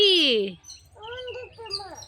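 A sparrow gives a loud, close chirping call lasting about half a second, followed by quieter, softer vocal sounds and a voice.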